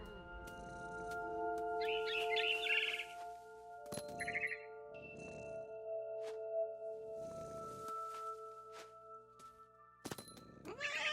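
Cat meows and caterwaul-like cries from the video game What Remains of Edith Finch, a few short calls over a steady tonal musical drone with occasional thuds.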